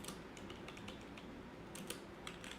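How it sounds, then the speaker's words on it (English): Soft keyboard typing on a computer, a run of quick light key clicks with a few brief bursts and louder taps, close but quiet over a steady low background hum. "I cannot type liquidity"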